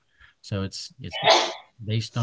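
A single sharp sneeze bursts out in the middle of a man's sermon, close and loud, with talking resuming right after.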